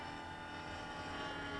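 A Vigor 60 radio-controlled helicopter flies fast overhead at a model airfield, producing a faint, steady whine and rotor buzz from a distance with no talking.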